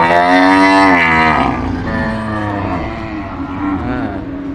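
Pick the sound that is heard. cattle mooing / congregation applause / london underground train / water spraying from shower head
cattle mooing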